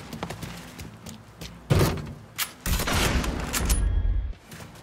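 Gunfire in the video game Mafia 3, with several bursts of shots and heavy impacts over background game sound, loud and close, including a sustained stretch of rapid fire toward the end.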